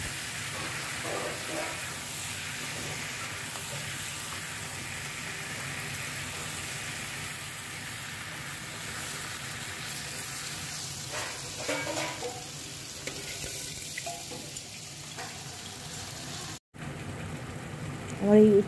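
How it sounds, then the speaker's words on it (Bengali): Bitter gourd slices fried in with a pan of cooking vegetables give a steady close sizzle and hiss, with some stirring scrapes toward the end. "এবার উচ্ছে ভাজাগুলো দিয়ে দিলাম।"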